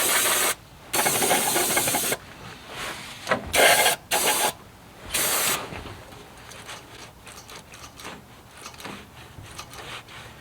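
Brake cleaner sprayed in several short, loud hissing bursts into the carburetor of an abandoned Chevy C10 that sat parked for ten years, followed by quieter rustling and handling sounds.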